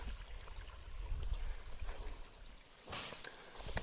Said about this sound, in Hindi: ये पानी देखिए बह के आ रहा है ना,